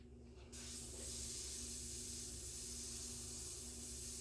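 After a brief quiet moment, an aerosol can bursts into a steady, close hiss, spraying a base coat onto an RC car body with paint and continuing evenly to the end.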